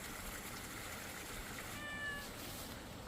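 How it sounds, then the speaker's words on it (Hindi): A cat meows once from a distance, a brief thin cry rising out of steady background noise from running water on a hillside. "जहाँ मैं जाता हूँ वहाँ बिल्ली भी आ जाती है।"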